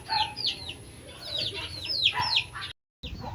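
Hens with newly hatched chicks cluck and chirp up close, a string of short, bright calls over low barnyard rumble, then a brief silent cut before the sounds resume.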